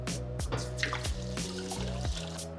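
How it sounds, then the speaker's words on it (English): Potatoes are rinsed under a running kitchen tap, water splashing and trickling steadily close by with intermittent knocks and drips as the potatoes are turned in the stream. "I'm gonna give them a quick rinse"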